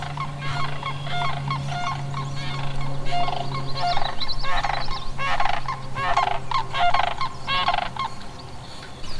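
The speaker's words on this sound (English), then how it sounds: "Those cranes are super noisy." Cranes call noisily near a lake where someone is fishing from a kayak, giving loud, honking, goose-like cries that repeat and overlap throughout, over a steady low background hum.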